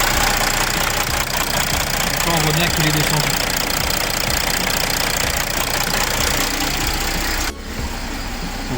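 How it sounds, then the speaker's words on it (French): A Mercedes CLS 3.0-litre diesel engine with a loss-of-power fault runs steadily at idle with a low, even rumble throughout, while someone talks over it. "on a été obligé de mettre le moteur en route"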